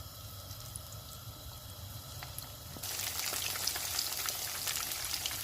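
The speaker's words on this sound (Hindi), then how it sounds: "इनको हम दरमियानी आंच में फ्राई करेंगे।" Pieces of fish pakora fry in hot oil over medium heat, a steady close sizzle that jumps louder partway through with crackling pops as more pieces go in.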